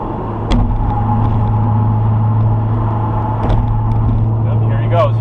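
A black Porsche Cayenne driving in traffic, its steady low engine and road rumble continuous and close throughout, with a couple of brief clicks over it.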